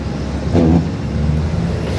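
Loaded tipper lorry engine pulling uphill at low revs, a loud, steady diesel drone heard from inside, with a brief swell in the middle.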